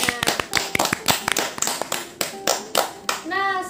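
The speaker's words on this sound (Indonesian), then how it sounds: "Mari kita beri aplaus semuanya." Applause from a class of children fills a few seconds with dense, uneven hand claps in bursts, ending as a voice cuts in near the end.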